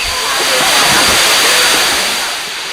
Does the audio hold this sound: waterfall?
yes